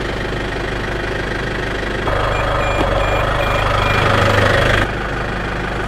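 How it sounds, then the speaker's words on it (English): A shredder's engine idles with a steady, loud mechanical drone and knocking rumble, rising to a harsher, busier roar partway through before dropping back to the even idle. "Let's turn the engine off."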